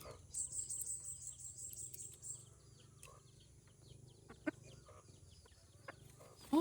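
Quiet soft clucks from a chicken close by, against a faint steady outdoor hum with insects chirping in the background.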